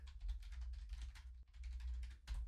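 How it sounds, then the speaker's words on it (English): Steady, rapid keyboard typing, a continuous patter of quiet keystrokes over a low background hum, close by and without speech. "So I'm going to have to type,"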